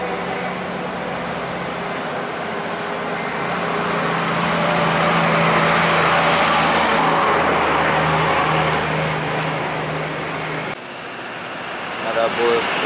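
Putra Pelangi intercity bus on a Sumatran road, its engine drone rising and falling steadily as it passes near, under continuous road noise with talk over it throughout.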